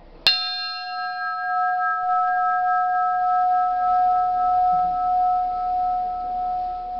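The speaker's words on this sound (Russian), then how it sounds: "Итак, я ударяю в колокол." A single loud strike on a church bell inside an enclosed belfry rings out, followed by a long, sustained metallic hum that decays slowly over several seconds, close and alone.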